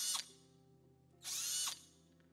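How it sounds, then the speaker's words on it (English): A power drill drives a screw in two short high whirring bursts separated by a pause, fairly close and clear. "But then you have the power drill."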